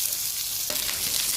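Onion dropped into hot mustard oil in a pan for a fish curry sets off a sudden, close sizzle that rises from a steady frying hiss and keeps crackling.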